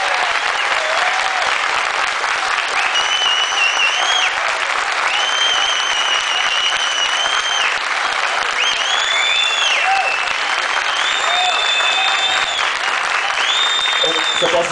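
Sustained, loud applause from a crowd fills the whole stretch, with voices and whistles rising over the clapping.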